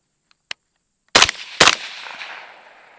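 An IWI Carmel rifle fires with its folding stock folded at an outdoor range: a faint mechanical click, then two sharp, loud shots about half a second apart, each trailing a decaying echo.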